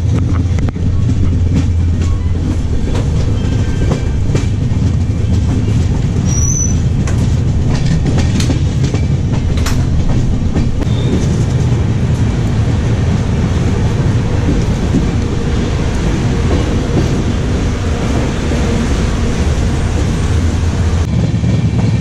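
An Intercity Express train on the Howrah to Malda Town route rumbles steadily from inside an AC chair car, a loud continuous low roar of wheels and carriage noise with faint rhythmic clatter throughout, no talk.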